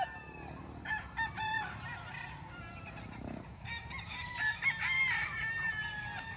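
Smaller chickens and roosters crow and cluck at a rural yard, with several overlapping calls rising and falling at moderate distance and no one speaking.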